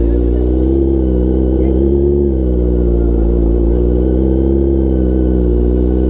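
A superbike engine runs loud and close, holding a steady, throbbing low drone with a slight swell in the middle and no pauses.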